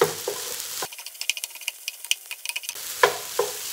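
A spoon stirs a green onion mixture in a hot pan with the heat just turned off, producing a quick run of scraping clicks and taps over a soft sizzle, close up and with no voices.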